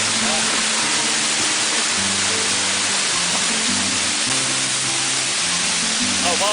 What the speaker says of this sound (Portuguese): A água que bate, fica espirrando, o vento fica trazendo.